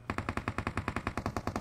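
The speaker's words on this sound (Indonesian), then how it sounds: "Nah, ada tembakan tuh." Automatic gunfire from the mobile battle-royale game PUBG Mobile rattles out in a fast, steady burst of about fifteen evenly spaced shots, loud and close, with no other sound around it.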